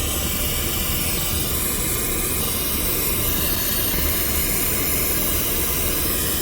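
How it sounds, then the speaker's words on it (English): Pink noise test signal for car audio tuning plays as a steady, dense, unbroken hiss, loud and constant throughout. "easier to hear with pink noise."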